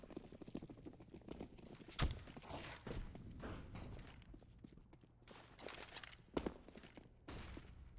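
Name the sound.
footsteps in Counter-Strike video game, Mirage map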